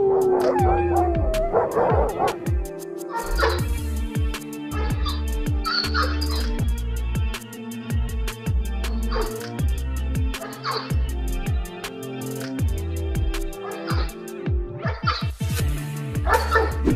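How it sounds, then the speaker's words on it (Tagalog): Domesticated wolves howl against wild wolves, a loud chorus of overlapping howls, yips and whimpering cries with sharp barks scattered throughout, close and sustained. "Hindi nagpatalo ng pag-alulong ang mga alagang wolf, kaya napa-atras ang mga wild wolf."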